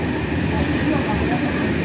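A train rumbles steadily past at close range, a constant low roar of rolling cars with no break.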